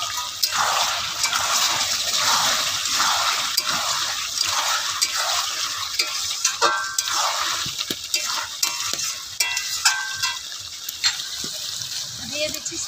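Cooked chicken and fried potatoes are stirred in a pan with a rhythmic, wet scraping and sizzle, moderately loud and close, with brief talking in the background.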